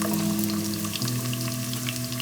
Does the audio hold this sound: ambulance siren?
no